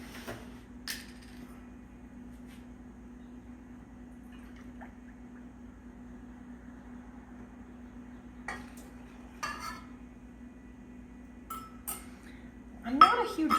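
Milk being mixed into pumpkin pie filling in a bowl: sparse light clinks and scrapes of a spoon against the dish over a quiet room hum, with a louder clatter near the end.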